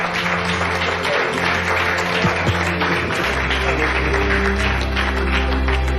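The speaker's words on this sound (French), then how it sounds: "Je pense qu'on peut vous applaudir." Applause greets the winning team of a travel race competition, a steady stretch of clapping from a small group heard under a speaking voice.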